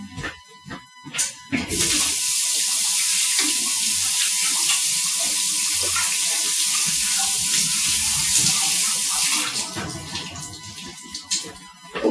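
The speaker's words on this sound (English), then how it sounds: "let me wash my hands real quick" Hands are washed under a running tap after making a crumb topping for an apple pie, with a loud, steady stream of water that lasts about eight seconds, framed by brief clatter and splashing at the start and end.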